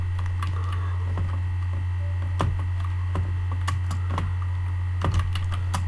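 Keys clatter on a computer keyboard as a search topic is typed in irregular bursts of clicks, close and fairly clear over a steady low electrical hum, with no talking.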